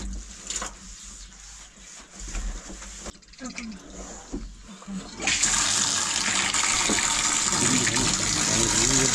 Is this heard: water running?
yes